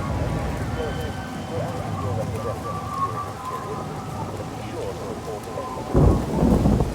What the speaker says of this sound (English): it is not just raining, it is storming.